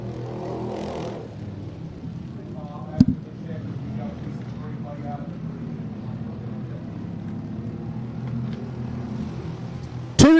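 Race cars circling Golden Isle Speedway in Waynesville, Georgia, a steady rumbling engine drone at a distance with passing whines rising and falling, and a sharp loud burst near the end.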